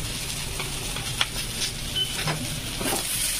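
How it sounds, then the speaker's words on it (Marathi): Onion roasting in a pan for Malvani coconut masala gives a steady, soft sizzle with occasional stirring scrapes throughout, and no one speaks. "तर आता इथं दुसरा कांदा आपण भाजायला टाकलेला आहे."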